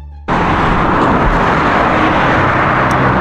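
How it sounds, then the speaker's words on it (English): Heavy street traffic with many cars passing at night while walking back from dinner: a loud, steady, broadband roar starts abruptly and continues unbroken, with no talking. "There's a lot of cars, a lot of traffic right now."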